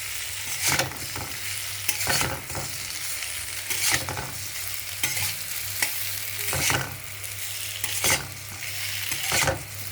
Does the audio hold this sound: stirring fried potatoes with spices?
yes